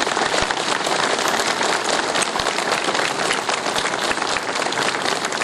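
A crowd applauds the mayor at the inauguration of a gas station in Studina commune, Olt, with thick, continuous clapping that crackles like heavy rain, loud and even throughout.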